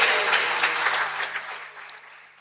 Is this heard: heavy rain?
no